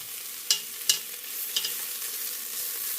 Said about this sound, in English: once the garlic cooks with the ginger